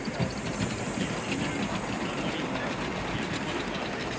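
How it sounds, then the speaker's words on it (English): A model bullet train runs along a layout at a model railway exhibition, giving a steady whirring rumble with faint rhythmic clicking over a broad hall hiss, continuous and fairly close. "Bit of a random bullet train."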